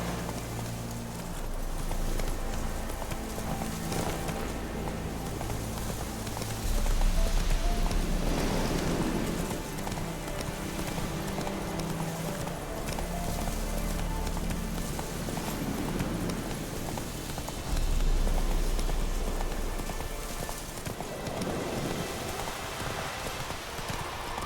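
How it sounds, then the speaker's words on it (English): Horse hooves galloping in The Witcher 3 video game: rapid, continuous clip-clop over terrain, with louder swells of rushing movement and ambient rain-like noise. "Whoa there, Roach."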